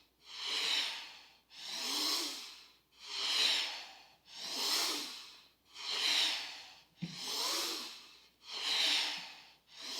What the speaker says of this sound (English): This might sound even a little bit more like breath of fire than long, deep breathing.